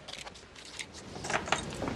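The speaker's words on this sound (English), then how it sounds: "Keys." Keys jangle and clink in a few short metallic bursts, close and moderately loud, with a faint low background rumble and no voices.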